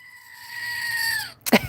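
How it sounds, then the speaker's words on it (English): A screaming goat sound effect: one long, harmonic bleating cry that rises and holds for over a second, then breaks off, followed by a brief harsh burst. "Screaming goats."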